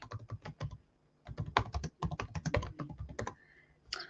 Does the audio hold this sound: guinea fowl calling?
no